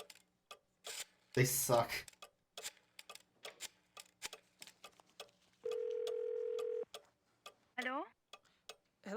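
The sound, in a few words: rotary phone dialing in Gabriel Knight video game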